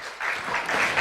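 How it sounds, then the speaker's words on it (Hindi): An audience at a quiz round of a youth festival bursts into applause for a quiz team, with steady, dense clapping that swells slightly and continues without talk. "जोरदार तालियां होनी चाहिए।"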